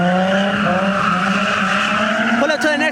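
A car launches in reverse at a large car meet, its engine revving hard and loud while the tires squeal and skid, with a crowd voice briefly audible underneath.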